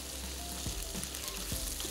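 Meat and onions frying in a pan while being stirred, a steady close sizzle with soft scraping strokes under it, no talk.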